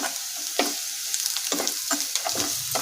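Fried onions with salt and turmeric sizzle in a pan while being stirred, with a steady hiss broken by several close scraping strokes of the spoon.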